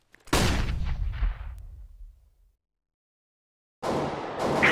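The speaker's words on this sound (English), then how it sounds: "Throw in a flashbang! I'm throwing a flashbang!" A flashbang grenade goes off in Counter-Strike with one sharp, loud blast that decays over about two seconds, then silence, then another burst of game noise.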